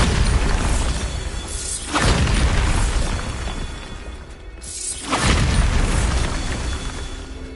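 A Bombarda spell in the Hogwarts Legacy game sets off two loud, booming explosions a few seconds apart, each followed by crumbling debris and a rumbling decay.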